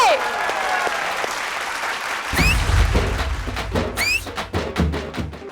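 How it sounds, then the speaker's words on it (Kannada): Loud, dense clapping from a TV comedy show audience breaks out after a brief lead-in and carries steadily to the end, with a few sharp whoops on top. "ಚಪ್ಪಾಳೆ ಅಂತೂ ತಟ್ಟಕ್ ಆಗತ್ತಲ್ವಾ? ಬರ್ಲಿ ಚಪ್ಪಾಳೆ."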